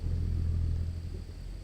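A car rolls past on the road in American Truck Simulator, a steady low rumble that swells and then fades over a couple of seconds, with no talking.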